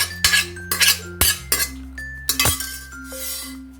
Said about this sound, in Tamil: இப்போ இதில் இந்த பருப்பு வெந்ததையும் அப்படியே ஊற்றிக்கலாங்க.